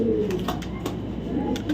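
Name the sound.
male racing pigeon cooing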